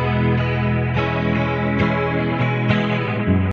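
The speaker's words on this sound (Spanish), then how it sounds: "suena el delay por más que haya apagado el 7600" Electric guitar chords ring through a recorded delay effect, dense sustained tones with repeating echoes layered over each new strum, loud and continuous with no talk.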